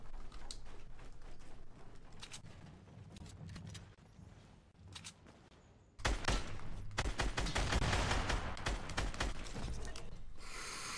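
Gunshots in a video game firefight, quieter scattered shots at first, then a sudden loud, dense volley of rapid cracks that keeps going to the end, with gasping heard along the way.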